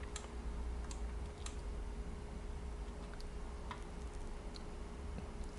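The Ctrl+M shortcut is pressed on a computer keyboard while editing in Photoshop, giving a handful of faint, sparse clicks spread across a low, steady room hum, with no voice.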